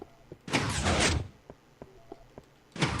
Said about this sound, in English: Standard piston door.